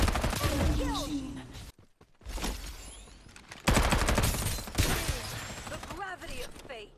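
Gunfire crackles in the battle game Farlight 84: rapid automatic bursts and shots in a loud firefight, broken by a brief near-silent gap, with sweeping whistling effects and other game sounds mixed in.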